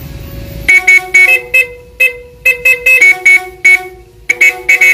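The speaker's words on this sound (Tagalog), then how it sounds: "Busina, testing mo na yung busina." A motorcycle-based jeepcycle's horn is tested with a loud run of short honks and a few longer blasts, each separated by brief silence, starting after a quiet idle.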